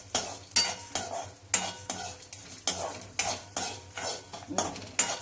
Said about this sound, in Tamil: எல்லாத்தையும் போட்டு கொஞ்சம் கொஞ்சமாக வறுத்துட்டு ஆஃப் பண்ணிடுறேன்